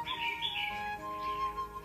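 A red-whiskered bulbul gives a short burst of chirps and squawky calls, fairly close, over a steady background hum.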